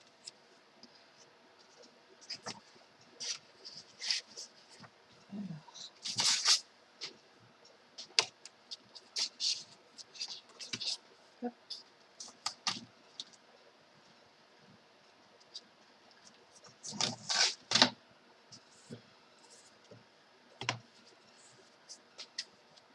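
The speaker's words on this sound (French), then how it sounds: "J'ai ma machine de découpe qui est juste là." An electronic craft cutting machine cutting yellow paper, giving faint, scattered clicks and brief whirring ticks at an irregular rhythm in a quiet room.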